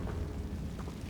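A Confringo blasting spell in Hogwarts Legacy erupts as a brief, dense rumbling blast with deep low-end weight, filling the whole short moment without any talk.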